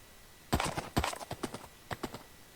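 Donkey hooves in Minecraft, a clip-clopping run of sharp knocks in uneven rhythm, close and clear over a quiet background.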